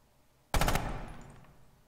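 A burst of automatic gunfire in a competitive shooter match, a quick rattle of close, loud shots that rings out and decays over about a second.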